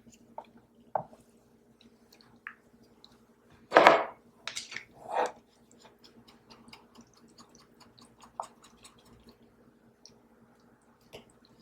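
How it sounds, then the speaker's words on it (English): Blue soap mixture being stirred in a container for a shark-embed salt bar, giving sparse light clicks and taps of the utensil against the vessel, with a few louder scraping knocks midway, close and quiet. "we'll just kind of sit here stirring for a little bit"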